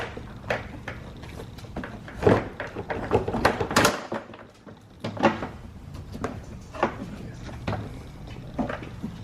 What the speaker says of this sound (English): pull the door up at an angle, and you can pop it off the top